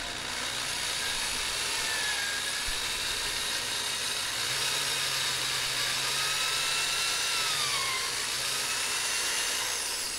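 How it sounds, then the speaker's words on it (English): A drill bit bores a sensor hole in a spare bracket for a dance pad, a loud continuous whirring grind with steady pitch that shifts slightly midway, alone without talk. "So I'm placing the drill bit against the bottom of the sensor hole this time"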